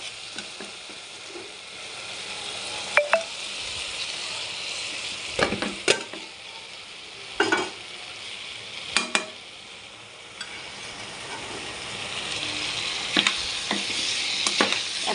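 Potatoes and pointed gourd frying in a spiced masala, with steady sizzling throughout and a few sharp clatters of a spoon or pan during stirring, close and fairly loud, no talk.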